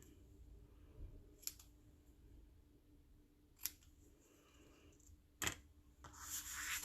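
Scissors snip card paper in a few quiet, separate cuts spaced seconds apart, set against a faint room background with some soft rustling near the end.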